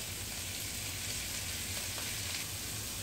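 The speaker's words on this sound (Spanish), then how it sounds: "La dejamos rehogar, dorar un poquito." Bacon, onion and bell pepper sauté in a pan for stuffed eggplant, giving a steady, close, continuous sizzle with no talk over it.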